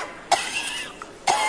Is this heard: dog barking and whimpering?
no